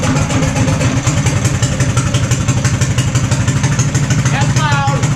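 A Harbor Freight Predator 420cc engine with a custom exhaust stack runs loud and close, a fast steady chugging putter with metallic clatter throughout, and a brief whistling squeal near the end.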